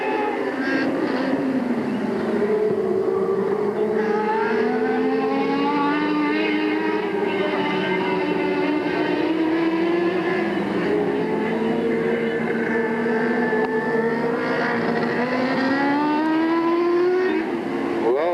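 Several race cars circling the oval at Delta Speedway, their engines droning and wavering in pitch continuously as they pass, loud and close, with no talk.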